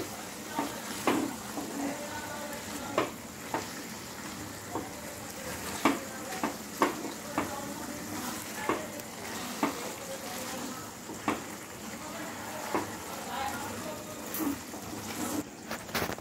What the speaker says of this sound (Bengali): ভালো করে সব ইনগ্রেডিয়েন্টসগুলো ভালো করে মিশিয়ে দেব।